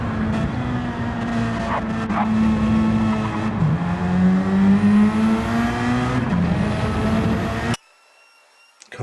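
Engines in a racing game race at Daytona in a sustained high whine that climbs and dips with gear changes and passes, loud and continuous before cutting out suddenly near the end.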